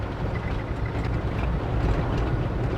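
A car engine with a fault, overhauled three times yet still weak, revs steadily above 2000 RPM, giving a continuous loud low rumble close by with no talk.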